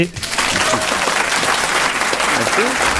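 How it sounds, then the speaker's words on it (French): A festival audience in Alpe d'Huez claps steadily throughout, a dense wash of applause, with a voice briefly audible under it. "Je vais vous demander d'applaudir"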